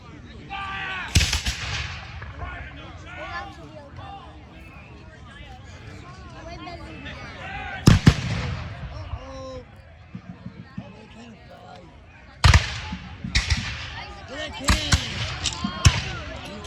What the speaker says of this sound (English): Looks like the artillery piece had come around and it's getting ready to fire as well.